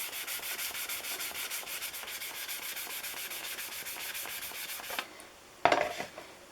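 Fine-grit sandpaper rubs over a Corsair aircraft canopy in quick, steady back-and-forth strokes for about five seconds, then stops, followed by a soft knock and a brief clatter.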